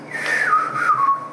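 A man whistles the Bridge on the River Kwai march theme on a film set, a clear, close, loud melodic line gliding downward across a few sustained notes.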